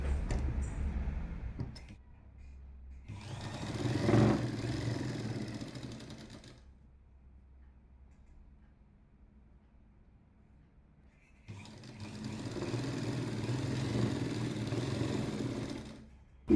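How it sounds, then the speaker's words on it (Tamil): A sewing machine stitches a side seam in a jacket lining in two steady whirring runs of a few seconds each, separated by a quiet pause, heard close and without talking. "அதுக்கப்புறமா கீழே அரை இன்ச் அளவுக்கு நேராக தச்சு விட்றோம்"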